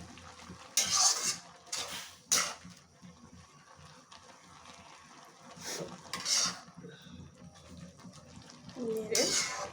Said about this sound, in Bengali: শাকটাকে নেড়ে চেড়ে দিচ্ছি।